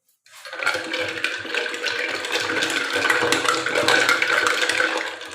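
A pink drink is shaken in glasses to mix its colour, giving a steady, fairly loud rush of sloshing liquid that starts abruptly and continues without pause.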